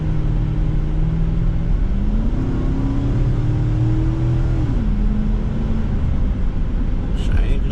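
A small truck engine drones loudly with a rumbling aftermarket-sounding exhaust, its pitch rising and falling as the vehicle pulls and shifts.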